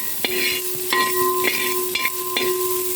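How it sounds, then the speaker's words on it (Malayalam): Onions sautéing in a pan, a continuous moderate sizzle broken by a few sharp clinks and scrapes of stirring at irregular intervals, no voices. "ഇനി ഈ സവാള നന്നായിട്ടൊന്ന് വഴച്ചെടുക്കാം"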